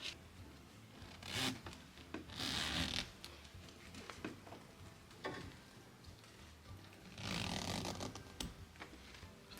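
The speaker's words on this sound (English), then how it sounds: "there's a zipper right here, and then there's the other side of the zipper." Zipper on a recliner cover pulled closed, its ragged rasping strokes coming in a few separate bursts with quieter handling and rubbing noises between them, close and fairly faint.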